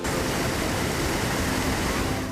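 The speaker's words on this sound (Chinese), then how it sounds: "浩瀚水量直冲而下" Iguazu Falls at the Devil's Throat, on the Brazil–Argentina border, where a huge volume of water plunges down, producing a dense, steady, loud roar with no voices.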